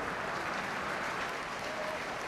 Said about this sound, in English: A warm applause from the crowd